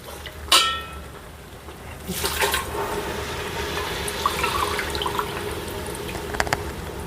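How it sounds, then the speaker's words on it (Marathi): Water is poured into a pressure cooker holding soaked rice for Maharashtrian masale bhat. A sharp clank comes first, then a steady, close pouring stream runs from about two seconds to the end. "आता त्याच्यामध्ये पाणी टाकूया आपण"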